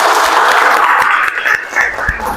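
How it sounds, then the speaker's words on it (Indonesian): Class applause, a short, loud burst of clapping from a group of students that tapers unevenly over about two seconds. "Oke, tepuk tangan untuk kita semua"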